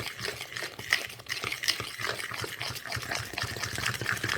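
Pumpkin pie filling made with almond milk is whisked by hand in a bowl, a close, wet, sloshing stir with quick irregular taps of the whisk against the sides, heard alone without speech.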